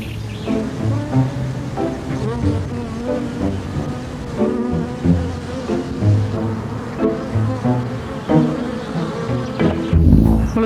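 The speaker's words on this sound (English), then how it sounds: "a swarm of bees have just gathered on the grapefruit tree" A loud, dense droning hum of a swarm of honey bees gathered on a grapefruit tree nearby, wavering steadily in pitch and intensity without pause.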